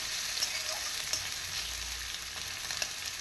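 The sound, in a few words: potatoes, onion and chillies frying in a pan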